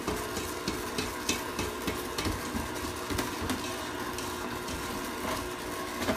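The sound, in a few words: mixing banana bread batter with vanilla and cinnamon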